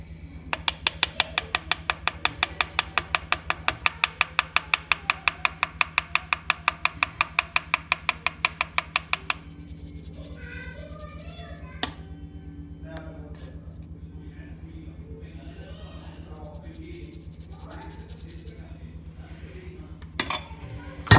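Spoon or whisk rapidly clinking against a metal bowl while flour, baking powder and salt are mixed into marble butter cake batter, a fast steady rhythm for about nine seconds, then softer scraping and occasional knocks, with someone talking throughout.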